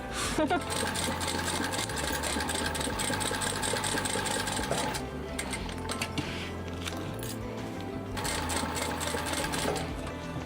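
A sewing machine runs close and loud, stitching the final seam of a floral dino water bottle bag in steady bursts with short pauses, its motor whirring under a person's talk.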